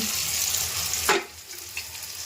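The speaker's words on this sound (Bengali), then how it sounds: "এগুলি সব পেঁয়াজ ভাজা হয়ে গেছে, চলছে ভাজা।" Onions frying in a pan in a home kitchen give a steady, close sizzle for about a second. The sizzle then drops to a quieter hiss with a small clink near the end.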